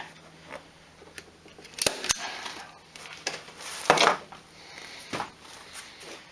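Scissors snip through upholstery fabric while trimming relief cuts on a workshop chair being restored, a handful of sharp, separate snips spaced across a quiet room, the loudest pair close together near the middle.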